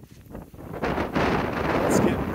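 Strong wind gusting across an open pond in cold early spring, roaring and buffeting the microphone, building louder after the first second and staying steady.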